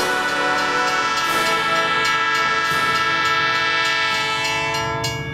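A train rumbles along steadily while a long, loud horn blares over it, holding its tone for several seconds.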